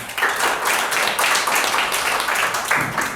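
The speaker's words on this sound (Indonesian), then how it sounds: "Beri tepuk tangan buat Bu Ripka" Steady applause from an audience at a school event welcoming a speaker, dense continuous clapping from many hands at fairly close range with no talking over it.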